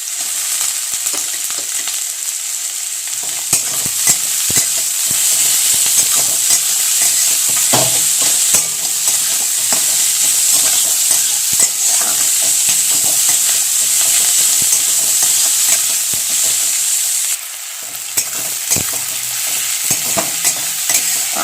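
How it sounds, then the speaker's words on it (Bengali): Chopped onions, green chillies and curry leaves fry in hot oil while being stirred, a steady loud sizzle with repeated scraping strokes of a spoon against the pan throughout, no voices. "এরপর দিয়ে দিলাম কাঁচা লঙ্কা কুচি, পেঁয়াজ কুচি, সব একসাথে দিয়ে কিন্তু আমি একটু ভালো করে ভেজে নেবো"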